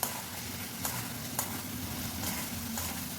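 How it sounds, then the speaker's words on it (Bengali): Fried potatoes and pointed gourd being sautéed with spices in hot oil give a steady close sizzle, with a few sharp scrapes of a spatula stirring the pan. "এখন ভেজে রাখা আলু পটলটা দিয়ে আবারও মশলার সাথে খুব ভালো করে কষিয়ে নেব"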